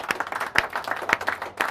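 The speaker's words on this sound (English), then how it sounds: "massive round of applause" A small group clapping in celebration of a strong sales month, brisk uneven claps for a couple of seconds, close and fairly loud, no voices.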